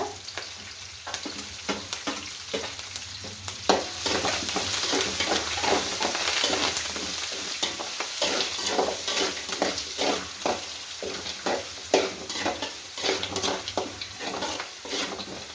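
Onions, green chillies and curry leaves sizzle steadily in hot oil in a pan while a spatula stirs them with repeated scraping strokes, close and continuous with no talking.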